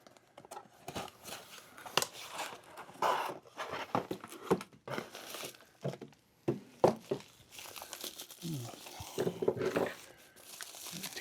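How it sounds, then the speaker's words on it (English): Cardboard box of lapidary trim saw accessories being opened, with irregular crinkling, tearing of tape and rustling of packing in bursts, close up, with occasional faint voice. "let's open up this box"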